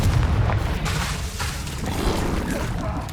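A Confringo fire spell explodes in Hogwarts Legacy, a loud, dense booming blast with crackling roar that fills the whole moment, close and sustained rather than a single pop.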